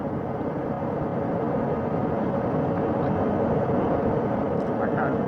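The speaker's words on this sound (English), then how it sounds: "Helicopter 1 again hovering 40 feet over the front porch." A helicopter hovers about 40 feet over the front porch of the Artemis II recovery ship, giving a loud, steady rotor and engine roar that carries unbroken from start to finish.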